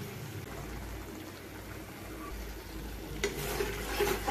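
Butter paneer masala being stirred and fried in a pan, soft scraping and low sizzling that grows slightly louder near the end, with no talking.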